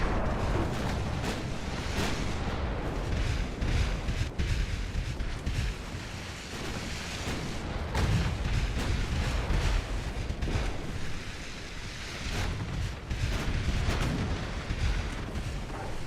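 Naval battle in Ultimate Admiral Dreadnoughts, with heavy ship guns including 9.4-inch calibre firing amid a continuous roar of wind and sea, dense overlapping booms rolling on throughout.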